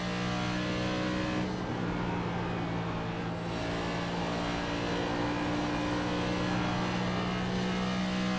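Race car engine heard from the in-car camera at Indianapolis during a Naras Cup Series race, a loud, steady high-revving drone that holds constant throughout.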